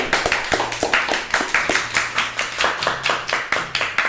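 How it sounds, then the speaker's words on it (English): A small audience applauds music at a livestreamed figure drawing class, with steady, evenly paced clapping from a few pairs of hands, close and fairly clear, over a faint low hum. "if we could give our music a round of applause"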